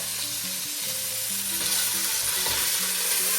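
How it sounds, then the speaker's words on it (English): A steak sizzles loudly and steadily in a hot pan right after being flipped, a dense continuous crackle with faint clinks and scrapes underneath and no talking. "Now it's time to turn the steak."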